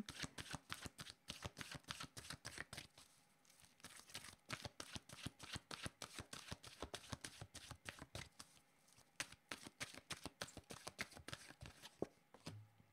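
Oracle cards shuffled by hand in a steady, rapid run of crisp riffling slaps, close and fairly quiet, with no talking.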